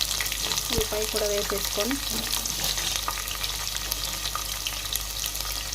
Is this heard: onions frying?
yes